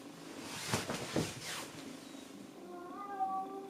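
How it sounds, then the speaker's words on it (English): A cat meows a few times close by, drawn-out calls with a faint soft voice in the background toward the end. "meowing at me like she's caught something"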